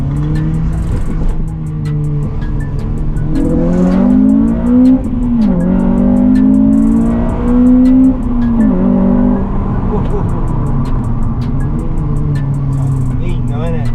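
Honda Civic Type R FN2 fitted with a Tegiwa exhaust and HKS intake, engine revving up and settling back to a rumbling idle with rising and falling pitch, heard close by while people talk over it.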